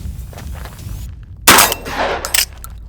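A Turkish shotgun fires out of battery during a 500-round reliability test: one sharp, loud blast with a metallic clang, followed by a brief rattling tail and a second clank, all close to the microphone.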